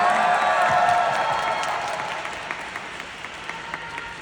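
A crowd claps loudly to welcome a singer at a Kangwon National University evening event, the dense applause gradually thinning and fading over a few seconds.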